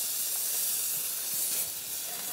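An oiled swordfish steak on a barbecue grill gives off a steady, bright hiss of sizzling that holds evenly throughout, with no voices.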